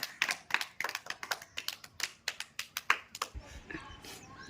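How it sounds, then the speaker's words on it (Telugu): A few people clap in a quick, uneven burst of sharp close hand claps at a panipuri eating challenge, tapering off into quieter scattered claps and low background noise. "Very good, claps."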